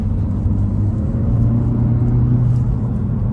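A Honda Civic Si with a 6-speed manual cruises in third gear, its engine giving a steady, loud, close low drone with constant rumble and no audible shifts.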